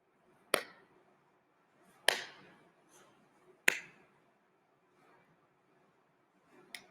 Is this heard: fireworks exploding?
no